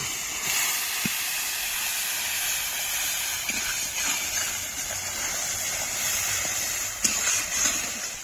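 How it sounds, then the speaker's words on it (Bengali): Turmeric, salt and Kashmiri red chili powder frying in hot oil for a soybean curry give a steady, loud sizzling hiss throughout, with a few faint clicks. "হলুদ গুঁড়ো কাশ্মীরি রেড চিলি পাউডার এবার ভালো করে কষে নেব"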